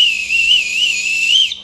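A whistle from a jungle survival kit gives one sustained, loud, close blast with a slightly wavering pitch, lasting about a second and a half before it cuts off.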